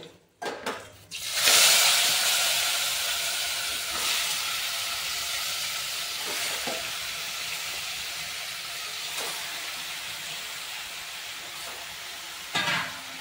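A loud hiss of chicken sizzling in hot oil with turmeric flares up after a metallic clatter and continues steadily, with occasional faint scrapes of a pan.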